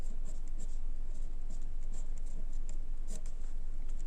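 Pen or pencil writing on paper during a Class 10 maths lesson, a steady scratchy stream of strokes with short pen lifts, close and continuous, with no one talking.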